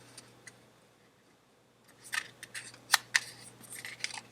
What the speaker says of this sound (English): Crease it, then fold it in half again.